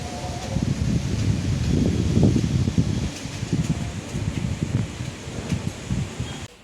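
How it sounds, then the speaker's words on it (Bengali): Strong storm wind gusts through leaves at the start of the first storm of the year, a steady, loud rushing roar with rustling that holds for several seconds and eases slightly near the end. "বাপরে ভীষণ হাওয়ার ফোর্স দিচ্ছে"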